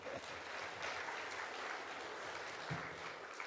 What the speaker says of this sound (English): we should give her a round of applause for that